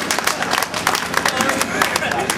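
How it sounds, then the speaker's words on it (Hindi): An audience at a poetry recital claps together, a dense run of sharp overlapping hand claps with crowd murmur beneath. "अगर समझ गए तो जोरदार तालियां बजाएं।"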